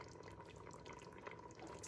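Chicken broth is poured into an Instant Pot, giving a quiet, continuous splashing trickle of liquid with faint gurgles throughout.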